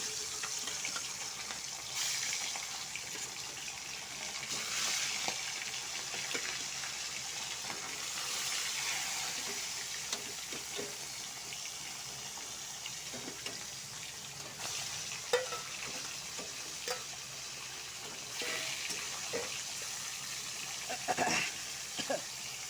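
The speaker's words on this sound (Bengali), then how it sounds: "তেলটা গরম হয়ে গেছে মাছটা" Fish lightly frying in hot oil in a pan, a steady soft sizzle with occasional stirring clinks and scrapes, close and moderately quiet, with no talk.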